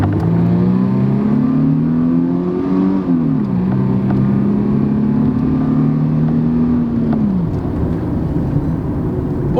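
A 1994 Mercedes-Benz C180 W202 with a 1.8-litre four-cylinder accelerates hard. The engine drones loudly and climbs through the revs, dips at a gear change around the three-second mark, then pulls again and eases off near the end. No one speaks.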